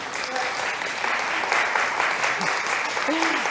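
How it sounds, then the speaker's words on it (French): Evening gathering audience applauding Cathy, a steady full round of clapping at moderate loudness with some voices mixed in. "on pourrait applaudir Cathy pour tout le travail qu'elle fait pour Esther"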